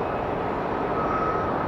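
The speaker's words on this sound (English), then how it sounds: "check this out while we send another large plane to the south side to land" A large airplane comes in to land on the south side of Hartsfield-Jackson Atlanta airport. Its engines give a steady, loud, broad roar with a faint whine that lasts throughout and is heard alone.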